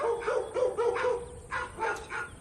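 Wild dogs in baboon territory bark in a quick series of sharp barks and yips, some with a whimpering edge, fairly close and loud in an outdoor setting, with no voices.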